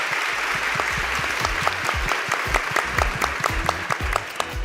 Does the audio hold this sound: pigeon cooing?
no